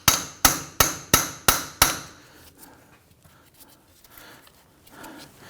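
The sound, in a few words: hammer striking punch on axle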